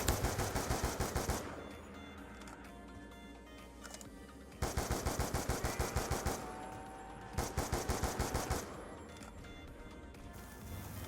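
SMR rifle fire in a Call of Duty zombies mode, coming in loud rapid bursts of repeated shots with short pauses between the volleys.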